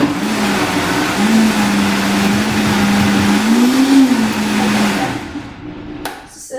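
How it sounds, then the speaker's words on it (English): A blender running continuously at a loud, steady pitch, pre-blending greens for a green smoothie with lemon, lime and celery; the motor hum wavers slightly, then cuts off near the end. "So let me get this blended a little bit first"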